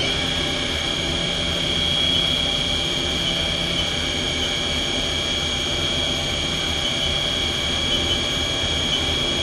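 A Haas VF2B CNC vertical machining center spindle spins at high speed, giving a steady, loud whine with strong tonal bands over a dense mechanical hum, constant throughout with no talk.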